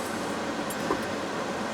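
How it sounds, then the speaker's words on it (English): A train passing nearby, heard as a steady, loud rumbling roar that holds evenly throughout with no pauses or distinct clatter. "Look at that train."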